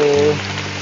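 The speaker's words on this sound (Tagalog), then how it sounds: "Ayun mga lods, oh, lakas ng ulan." Heavy rain pours steadily outdoors under a banana grove, a dense, loud hiss of falling water throughout, with a brief tonal hum at the start and no talk.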